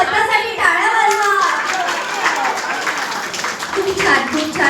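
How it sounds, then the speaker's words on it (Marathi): A group at a Marathi baby shower claps for itself, quick scattered handclaps mixed with cheerful voices and someone talking over them, close and lively. "विठ्ठलवाले स्वतःसाठी टाळ्या वाजवा."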